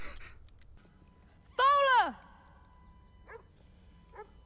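A dog in the 2015 horror film The Witch gives one loud, rising-and-falling yelp lasting about half a second, followed by two faint, short whimpers over a low rumble of background noise.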